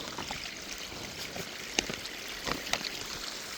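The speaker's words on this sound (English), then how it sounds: "We're getting a waterfall." Water from a newly dug drain spills into a barnyard pond like a small waterfall, a steady outdoor trickling flow with a few brief splashy peaks, fairly faint and without talk.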